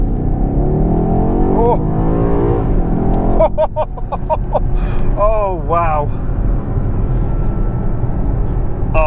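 A BMW X6 M Competition engine roars as it accelerates hard, loud and close, with a person exclaiming excitedly over the rising engine noise.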